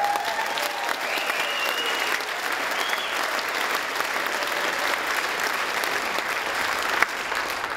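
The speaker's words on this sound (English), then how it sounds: "Let's give him a round of applause." A large keynote audience claps in sustained, dense applause that holds steady and fairly loud throughout, with no speech over it.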